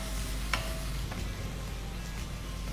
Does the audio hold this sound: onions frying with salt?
yes